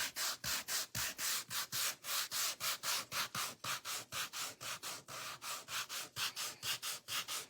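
Coarse grit sandpaper is run lightly over wood by hand in fast, even back-and-forth strokes, a close, regular rasping rhythm of about three strokes per second that continues throughout without talking.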